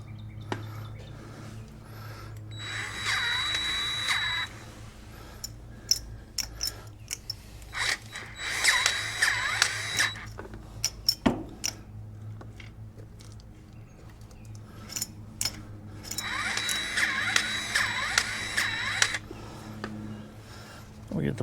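A hand grease dispenser works in short squeaky bursts while greasing the king pin bearings on a 1975 Ford 550 truck. The repeated chirping pumps come up close in three separate spells, with gaps of quiet shop noise between them.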